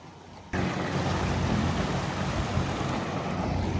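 A pontoon boat fitted with a VARA hydrofoil running at full speed on a lake, a sudden loud rush of wind and water that jumps in and holds steady, roaring and close, with no voices.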